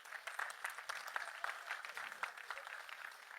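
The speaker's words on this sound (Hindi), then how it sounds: "मैं चाहता हूं गुलशन कुमार जी की स्मृति के लिए एक बार ये पूरा थिएटर तालियां बजा दे।" A theatre audience claps in memory of Gulshan Kumar, a soft, steady patter of many hands heard from a distance, fairly quiet and unbroken for the whole stretch.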